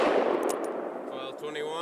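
A single loud shot from a Ruger Alaskan .44 Magnum revolver firing 240 grain XTP ammunition, a sharp blast decaying into a ringing tail with a faint beep near the end.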